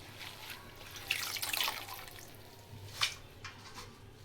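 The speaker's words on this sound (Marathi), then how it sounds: "असं आपण ही सर्व भाजी धुवून घेऊया." Fenugreek leaves are swished and lifted in a basin of water, making soft splashes and drips with a couple of louder sloshing bursts, close and quiet, with no talking.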